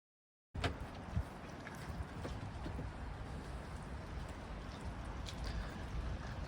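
A boat sits in a harbor in the rain, with a faint steady wash of water and wind rumble, scattered small taps and splashes, and no talking.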